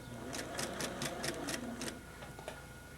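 A sewing machine stitches fabric around a curved arc while making a circus tent, running in a close, even burst of rapid needle clatter that slows and stops after about two seconds, with a lone click later.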